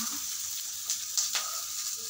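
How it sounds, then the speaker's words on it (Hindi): Onion frying in oil with green chili in a pan, a soft, steady hiss of sizzling with a few short crackling flares near the middle, heard alone without speech. "अब हम इसमें ओनियन डालेंगे"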